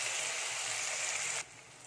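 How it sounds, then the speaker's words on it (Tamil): Small onions with curry leaves and green chillies frying in hot oil for Sankara fish curry, giving a loud, steady sizzle that drops off sharply near the end. "வெங்காயம் நல்லா ஃப்ரை ஆகணும்."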